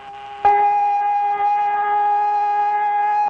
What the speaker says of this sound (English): There is in Honolulu one person whom the sound of the siren does not bother.